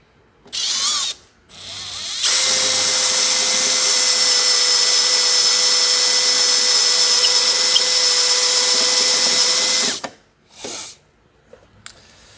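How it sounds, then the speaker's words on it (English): A power drill bores out spot welds on a 2004 Chevy Suburban rocker panel during rust repair, a loud steady high whine held for about eight seconds, bracketed by short drill bursts before and after. "the next step for me is to start drilling out the spot welds on the seams and underneath"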